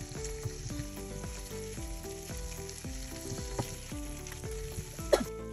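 Precooked ham fries in a pan for a breakfast pizza, a quiet continuous sizzle under a steady tonal background hum, with one sharper clink near the end.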